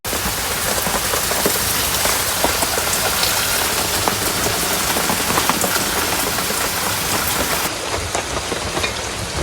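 Steady heavy rain pours down in a village, drumming evenly and densely on surfaces close by for the whole stretch, with no voices over it.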